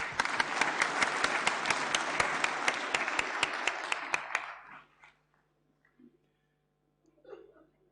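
A large audience at an annual function claps loudly and steadily for about four seconds, the applause tapering off quickly into near silence with a few faint stray sounds after.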